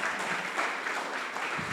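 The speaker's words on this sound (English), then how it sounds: "Applause for Prof." Audience applause for a professor at a community dialogue event, a short burst of steady, dense clapping from a crowd in a hall.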